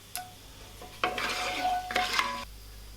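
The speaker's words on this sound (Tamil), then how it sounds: "எண்ணெயில் சேர்த்து நல்லா வதக்கணும்" Cloves, stone flower and cardamom being sautéed in oil for a chicken kuzhambu, with two bursts of spoon-against-pan stirring and scraping over a soft sizzle, close and fairly quiet.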